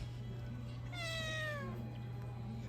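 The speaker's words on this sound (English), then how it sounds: "it came and started meowing at me" A single drawn-out cat meow in a pet store, clear and fairly close, rising then falling over a steady low electrical hum.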